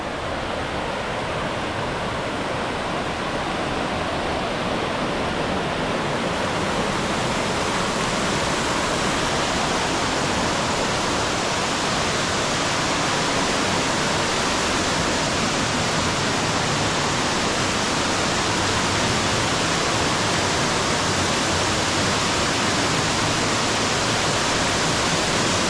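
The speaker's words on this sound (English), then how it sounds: "we are at the one of the many fountains" Water from one of the many fountains at Villa d'Este, Italy, pours and splashes in a loud, steady, continuous roar with no break, close by and alone.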